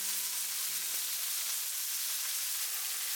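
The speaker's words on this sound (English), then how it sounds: "Spread them out on the pan. After a minute, flip them over." Small batches of beef pieces sear in a hot pan for Japanese curry, giving a steady, loud, dense sizzle throughout with no talking.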